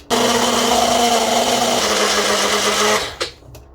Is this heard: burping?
no